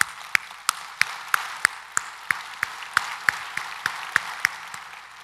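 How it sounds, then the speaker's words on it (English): Sparse, slow clapping from a small audience at a Society of Actuaries presidential address: about a dozen distinct claps spaced evenly over five seconds, moderately near with no talking. "let's give Jim a round of applause for all he has done"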